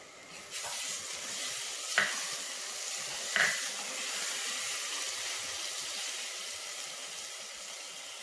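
Crushed ginger garlic paste sizzles steadily in a hot pan for lamb chops, a continuous close hiss with two brief clinks of stirring partway through.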